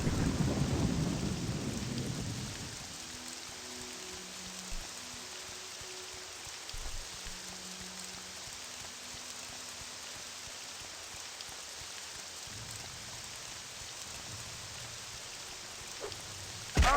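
Thunder rumbles loudly, then a steady wash of rain continues in a mountainside thunderstorm in the video game Morrowind, with faint low tonal game music under the downpour.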